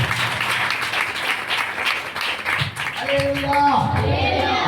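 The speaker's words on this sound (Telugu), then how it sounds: "చప్పట్లు కొట్టాలి." A church congregation at a Sunday service claps together in a loud, busy burst of many hands, with voices mixed in and sustained musical tones joining near the end.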